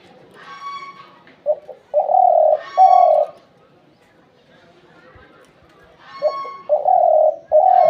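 Soft, repeated dove coos in short phrases, with chirpier bird calls between them, fairly close in a quiet setting.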